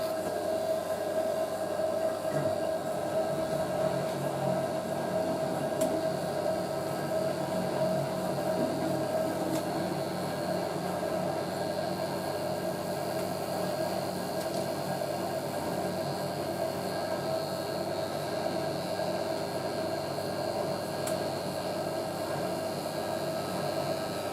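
A 1986 Hotpoint 9530 Electronic 1000 Plus washing machine on its spin, a constant loud mechanical whine and rumbling hum that holds steady throughout without pause.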